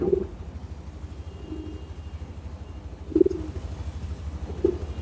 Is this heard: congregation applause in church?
no